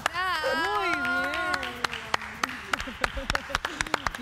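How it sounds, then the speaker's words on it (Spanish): A studio audience claps for a search and rescue dog on a live TV show. Several loud, sharp claps ring out under and between people talking. "Lo aplauden todos en el piso."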